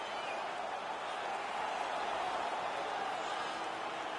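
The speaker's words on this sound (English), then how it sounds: "The crowd is all over them right now." An arena crowd roars during an NHL 19 playoff final hockey game, a steady, dense wash of cheering voices at moderate level, continuous with no distinct breaks.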